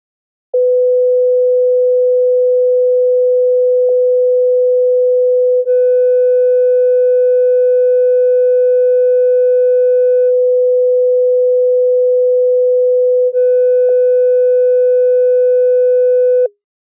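A steady pure test tone runs the full length, loud and unbroken, while a layer of added harmonics from a distortion effect switches on for about five seconds and again for about three, with small clicks at each switch.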